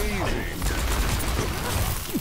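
Rapid bursts of gunfire in the video game Overwatch run continuously, with dense overlapping shots and other game effects mixed in.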